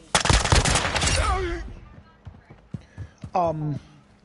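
An AK rifle in Modern Warfare II fires a loud, rapid automatic burst for about a second and a half. Scattered single reports follow, and someone talks briefly near the end.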